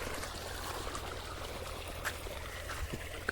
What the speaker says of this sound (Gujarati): તો આપણે આ પાણીનો બંબો અહીં મૂક્યો છે, એટલે અહીં પાણી આવે છે.